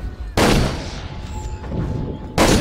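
Two sharp sniper rifle shots ring out from a sniper tower in the Toy Soldiers video game, each a loud broadband crack with a decaying tail, spaced about two seconds apart.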